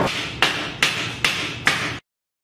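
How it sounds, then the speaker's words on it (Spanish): A hammer strikes something in five sharp, evenly spaced blows about half a second apart. Each hit is loud and close and rings briefly before cutting off into silence. "¿De casualidad tiene un martillo?"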